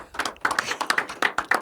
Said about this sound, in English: Can we get a round of applause for Joelah Noble?